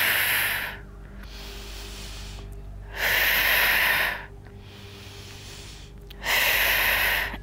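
Slow, deep breathing during a relaxation exercise: long airy inhales and exhales repeat in a steady cycle of about three seconds, close and fairly loud, with quiet pauses between breaths and no speech.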